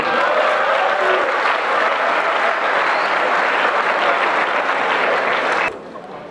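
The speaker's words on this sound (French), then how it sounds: "Applaudissons pour ce donateur." A crowd at a diploma ceremony in Brazzaville applauds steadily and loudly for several seconds, the clapping dense and sustained before dropping off abruptly near the end.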